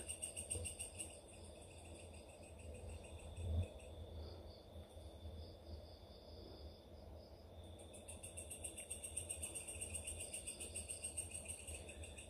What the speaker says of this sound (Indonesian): Hanya terdengar suara jangkrik saja ya.